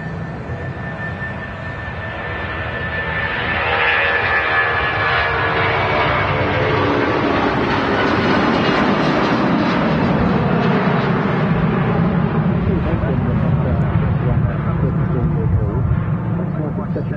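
A Boeing 757's jet engines roar at Manchester Airport, a loud, broad rumble that builds within the first few seconds and then holds steady and powerful, with a faint high whine above it.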